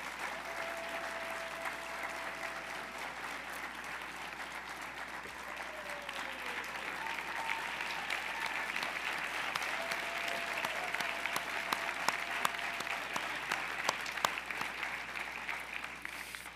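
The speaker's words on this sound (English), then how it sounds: "Let's give a big round of applause to the members of the New York City Council" A large audience at the 2016 State of the City address in the Bronx claps for the New York City Council members, a dense, sustained round of applause that holds steady and swells slightly toward the end.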